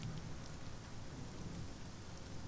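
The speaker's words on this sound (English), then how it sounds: "A light drizzle of silver rain brushes the village." Light rain drizzling in the video game Sunless Skies, a soft steady hiss of falling drops with a low rumble beneath, faint and even throughout.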